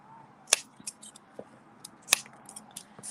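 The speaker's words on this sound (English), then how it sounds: "And I'm just going to snip it" Scissors cutting a folded paper mug in half: two sharp, crisp snips about a second and a half apart, with faint small rustles and clicks of paper around them in a quiet room.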